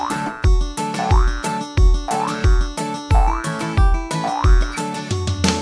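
Cartoon boing effects of a little dog bouncing, a repeated springy wobble about once a second over a cheerful children's song backing, loud and close.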